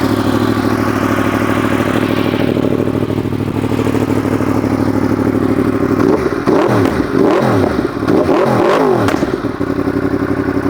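A Yamaha R1 with an extended swingarm and an aftermarket exhaust idles loudly up close, then is blipped through several sharp, rising revs in quick succession before settling back.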